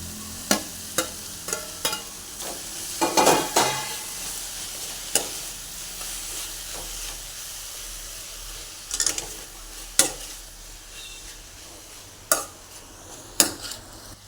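Onion and tomato frying in a pan for a tomato-onion fry, a steady close sizzle broken by repeated sharp scrapes and clicks of a spoon stirring against the pan, with no talking.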